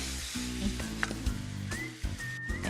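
Ground beef seasoned with kosher salt browning in a pan while a spoon breaks it up, a soft sizzle with light scraping under background music.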